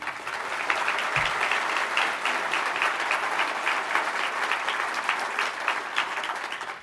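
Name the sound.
audience applause at a speech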